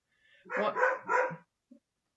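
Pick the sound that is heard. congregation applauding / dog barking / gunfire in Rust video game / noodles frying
dog barking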